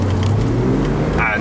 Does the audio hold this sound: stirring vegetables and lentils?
no